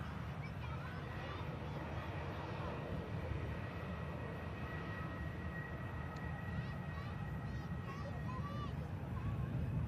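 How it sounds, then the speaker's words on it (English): An EasyJet airliner coming in to touch down, a faint, steady, distant jet roar with wind rumble that runs throughout, under a person talking. "EasyJet about to touch down."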